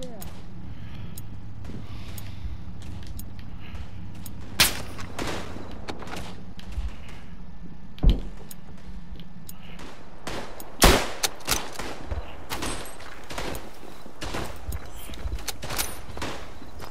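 Scattered gunfire in the World War I shooter Tannenberg on PS4, with sharp isolated shots and a denser volley near the end, mixed with mechanical creaks and a low rumble while a voice talks at times.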